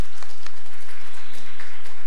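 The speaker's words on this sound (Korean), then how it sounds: "여러분 박수로 환영해 주십시오." Brief applause from a conference audience welcoming a panelist at a climate action event, soft claps over a steady low hum in a hall, short and fairly even.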